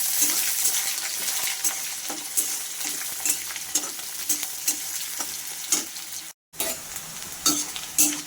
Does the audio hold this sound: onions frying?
yes